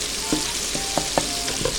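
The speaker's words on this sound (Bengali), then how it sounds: "সরিষার তেলের ভিতর সরিষা বাটা দিয়ে এরপর ছেঁচে রাখা রসুনের কোয়াগুলা দিয়ে দিব" Crushed garlic cloves fry in mustard oil with mustard paste for an amra fruit pickle, a steady close sizzle punctuated by several sharp stirring clicks and scrapes, with no speech.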